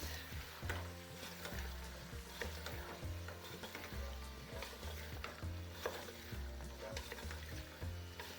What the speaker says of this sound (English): And you stir the onions.